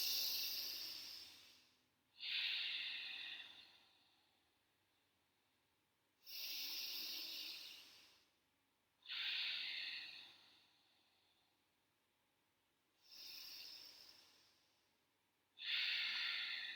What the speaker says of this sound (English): focus on inhaling and exhaling deeply